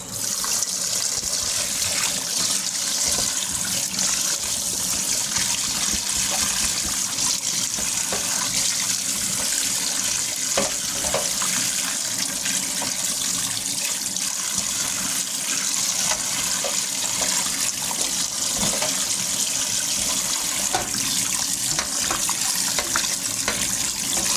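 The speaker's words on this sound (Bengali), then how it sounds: "এবার আমি মাছটা ধুয়ে নেব।" Tap water runs steadily and loudly for a long stretch as a fish is rinsed clean after cutting, a continuous splashing gush with no pauses or voices.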